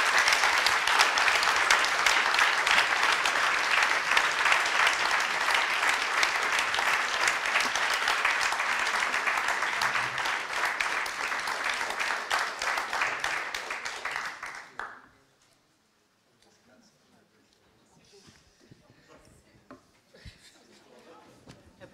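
An audience claps at length after an 80th birthday speech at a Marxism-feminism event, dense and steady applause for about fifteen seconds that cuts off abruptly into near silence with faint room murmurs.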